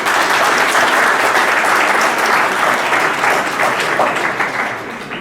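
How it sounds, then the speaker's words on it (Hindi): An audience at a law college's international seminar gives loud, dense applause that carries on steadily and then starts to ease off toward the end. "एक ताली तो बनती है।"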